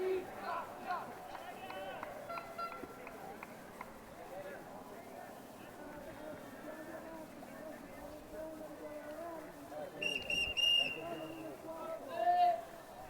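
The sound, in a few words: referee whistle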